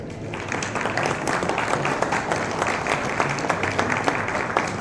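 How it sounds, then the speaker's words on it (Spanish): An audience at a book presentation welcomes the panel with steady, moderately loud applause, many hands clapping continuously with a few sharper claps standing out. "Recibamos a nuestro panel con un fuerte aplauso."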